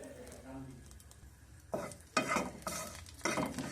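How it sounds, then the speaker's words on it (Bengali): Cardamom pods, cinnamon pieces and a torn bay leaf fry in a spoonful of ghee in a pan. A soft sizzle gives way to louder hissing bursts as the spices are stirred, with no voices. "ঘিয়ের মধ্যে কয়েক সেকেন্ড ভেজে নেব।"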